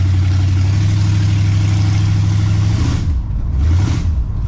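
A car engine that has just been brought back to running condition, droning steadily at a low pitch, then dipping and climbing again in two rev swells near the end, loud and close.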